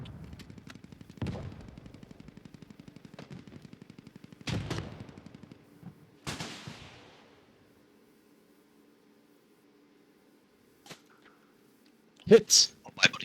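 A tank cannon fires in a main battle tank video game. A steady engine drone runs beneath several sharp, loud booms spaced a few seconds apart, one trailing off into a long fading rumble, followed by quiet and a late burst of noise.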